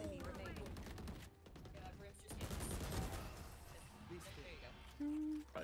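Rapid bursts of gunfire in the Valorant video game, volleys of shots at moderate loudness, with players talking over the action.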